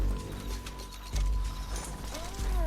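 Horse hooves clip-clopping in Red Dead Redemption 2 during a hurried escape, close rhythmic footfalls with brief snorts, set against game background sound.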